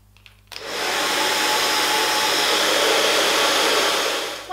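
After a quiet moment, a hair dryer switches on and blows with a steady, loud whooshing hum that continues without a break.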